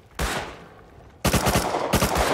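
Two loud bursts of rapid gunfire in the video game Rust, close and sharp, separated by a brief lull of lingering noise.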